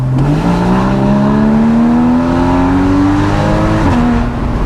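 A loud Porsche Boxster GTS engine revs hard and climbs steadily in pitch, dropping briefly at a gear change before pulling up again, close by with no talk.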